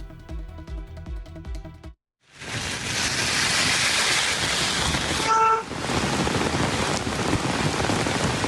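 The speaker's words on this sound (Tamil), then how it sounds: "உத்தரப்பிரதேச மாநிலத்தின் பல்வேறு பகுதிகளில் கனமழை வெளுத்து வாங்கி வருகிறது." Heavy rain pours down in Uttar Pradesh, a dense steady hiss that starts abruptly after a short tonal intro and a brief silence, then continues loud and unbroken.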